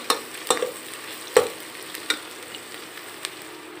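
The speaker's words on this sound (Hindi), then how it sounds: "फ्राई कर रही हूँ प्याज को।" Onions frying in a pan on a medium flame: a soft, steady sizzle punctuated by a few sharp stirring clicks and scrapes, close and alone with no talk.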